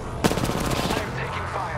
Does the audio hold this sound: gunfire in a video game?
yes